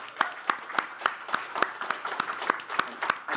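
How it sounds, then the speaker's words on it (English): An audience applauds the moderators at a live crypto community event, steady clapping with regular sharp claps standing out throughout, fairly loud and close. "I just want to give a round of applause to you and the rest of the moderators"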